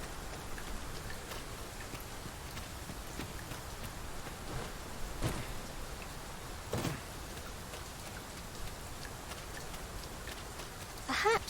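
Steady rain falling in the fantasy video game Dragon's Dogma 2, a dense constant patter of drops on surfaces with a few louder isolated knocks, continuous and fairly close.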